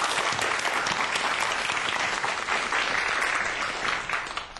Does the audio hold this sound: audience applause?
yes